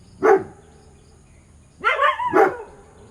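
Dogs bark during a yoga session: one sharp bark, then after a pause a quick pair of louder, closer barks, with quiet room tone between.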